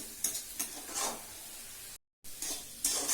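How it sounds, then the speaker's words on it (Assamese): Banana flower for kolposola fries in a pan on low heat, a soft hiss broken by gentle stirring scrapes, close and quiet, with a brief silent gap. "এয়া ফ্ৰাই কৰি আছোঁ, এনেকুৱা হৈ গৈছে।"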